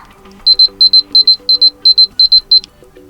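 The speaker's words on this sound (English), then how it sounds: "just tap on one of those melodies to apply the best one. Like for example, Beep Beep Alarm" A Cubot P80 Pro phone's Beep Beep Alarm melody of quick, high electronic beeps in repeating pairs, about eight double-beeps in a steady rhythm, clear and close.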